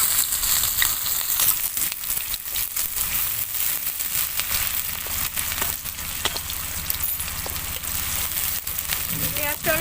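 Chopped onion fries in hot oil with dry red chilli, bay leaf and cumin seeds for a pumpkin fritter curry, a loud, steady crackling sizzle that stays dense and close throughout.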